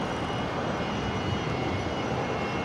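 A Jetstar Airbus A320 arriving at Brisbane from Launceston, Tasmania, produces a constant, fairly distant jet roar, even and unbroken throughout, with no voices.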